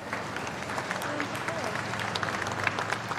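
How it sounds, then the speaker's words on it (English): Crowds lining Edinburgh's Royal Mile clap as the Queen's hearse passes, a dense, continuous patter of many hands heard from a distance, with murmuring voices and street ambience underneath. "The Royal Mile echoed to the sound of clapping as the hearse wound its way through the city."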